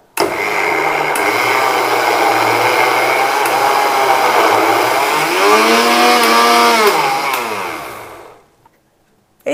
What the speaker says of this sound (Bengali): মিক্সিটা চালু করব।